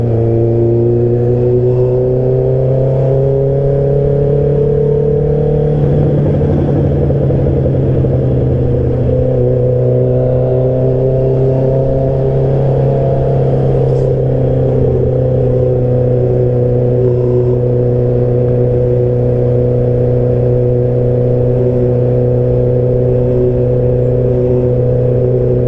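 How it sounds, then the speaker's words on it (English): In Sydney traffic, a vehicle engine drones steadily close by and swells into a rising rev midway before settling back to a smooth, continuous hum, with no talking. "Welcome to Sydney traffic."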